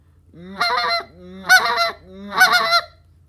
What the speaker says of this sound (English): the double cluck, you're just blowing 2 breaths of air.